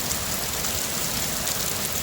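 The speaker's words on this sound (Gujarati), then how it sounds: "ભાઈ વરસાદ ધોધમાર પડે છે." Torrential nighttime rain during a July thunderstorm, heard as an even, unbroken rushing wash at moderate volume with no talking.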